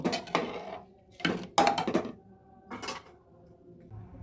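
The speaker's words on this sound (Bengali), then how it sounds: "কুকারটা বন্ধ করে দিলাম ছয় মিনিটের জন্য" A metal pressure cooker lid is fitted and locked while cooking basanti pulao, giving a few separate metallic clanks and clatters with quiet gaps between them.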